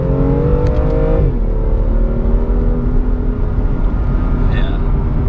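BMW M240i engine and exhaust in sport mode, a loud steady drone that climbs in pitch, dips briefly as it shifts, then settles into a constant cruise hum under nearby conversation.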